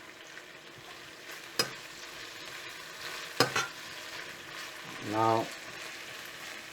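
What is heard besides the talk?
stir-frying chicken with dark soy sauce in a pan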